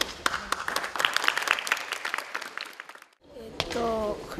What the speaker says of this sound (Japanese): 最後お互いに拍手してください。